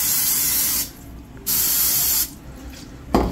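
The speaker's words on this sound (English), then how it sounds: "spray each side of this really good" Two long bursts of cooking spray hiss close by onto a waffle iron, separated by a pause, then a short clunk at the end.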